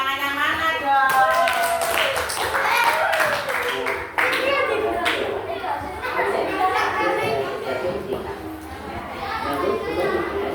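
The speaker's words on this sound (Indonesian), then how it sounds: "Tepuk tangannya mana dong?" Classroom of children clapping and chattering together, a dense continuous patter of claps mixed with many young voices, close and lively throughout.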